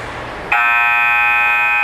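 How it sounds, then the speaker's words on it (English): At a hockey game, the end-of-period buzzer cuts in suddenly and holds as a loud, steady electronic tone over the faint arena crowd murmur. "And there's the buzzer in your first period."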